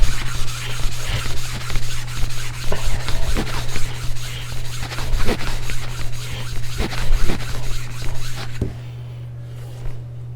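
A 1000 grit sharpening stone is rubbed back and forth on a lapping plate in a steady gritty scraping rhythm, close and loud over a constant low hum, easing off near the end.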